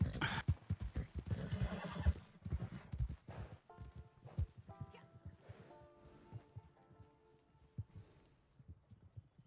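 A horse in Red Dead Redemption whinnies and snorts, then its hooves clip-clop at a steady pace, all fairly faint, with a brief tonal in-game sound partway through.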